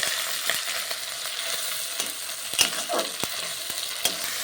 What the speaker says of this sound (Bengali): দিয়ে ভালো করে আবারও একটু কষিয়ে নিতে হবে